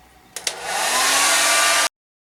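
Handheld hair dryer on its cold-air setting, drying screen-printing emulsion on a mesh frame; after two quick clicks it starts up and blows as a loud, steady close rush of air, then cuts off abruptly.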